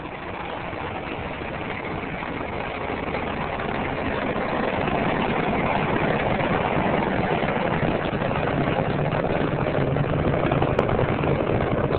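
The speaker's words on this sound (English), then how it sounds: "Discovery's engines now throttling down as the orbiter passes through the area of maximum dynamic pressure on the vehicle in the lower atmosphere." Space Shuttle Discovery's engines during launch ascent give a steady, dense, continuous roar that holds evenly throughout, distant and broadband, with no voices.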